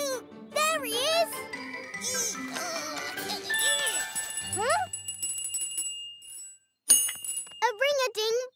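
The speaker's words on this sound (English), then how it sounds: "A ring-a-ding bell! I want to play the bell." A bell in a kids' cartoon rings out in bright repeated dings amid lively children's voices and cartoon sound effects, the ringing carrying clearly over the chatter.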